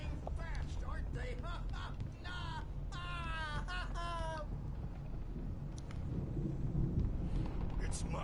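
Thunderstorm in the video game Alan Wake, a steady low rumble of thunder and rain under a mix of shrill cries and loud game noise, with voices talking over it.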